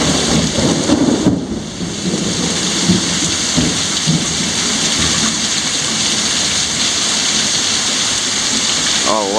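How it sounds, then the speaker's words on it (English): Heavy rain pours steadily during a thunderstorm in Corpus Christi, Texas, with a dense, continuous hiss and low thunder rumbles underneath, loud and close throughout. "It's really coming down now, the rain."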